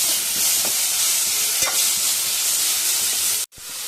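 Tomato pieces frying in a pan for egg dum biryani, a steady broadband sizzle and hiss with occasional stirring taps, close and loud, cutting out briefly near the end.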